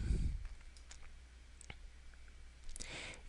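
Mouse clicks on a computer, used to place points for a lasso selection tool, come as a few sharp, faint taps spread over a quiet stretch, with a louder bump at the start.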